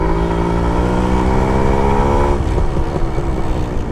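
A Suzuki Max 100R two-stroke motorcycle engine hums in third gear while riding, a close, loud, steady buzzing drone that shifts to rougher, wind-buffeted rumble partway through.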